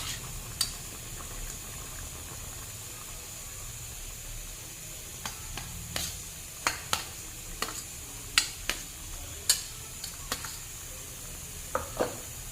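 Fried snake gourd goes into a thin fish curry simmering on a lowered flame, a soft, bubbling hiss with scattered scrapes and clinks of a spoon stirring the pan.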